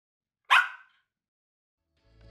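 A single loud dog bark, sharp and close, rings out alone and fades quickly, followed by silence and a faint low rumble at the very end.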